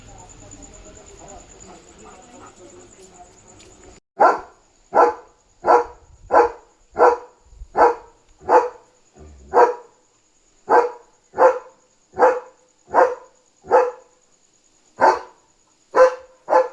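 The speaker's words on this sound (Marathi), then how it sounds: "किती भुंकतो. दमशील ना असा भुंकून भुंकून." A German Shepherd barks repeatedly at night, loud and close, in a steady series of single deep barks about half a second apart, after a quieter stretch of low background noise.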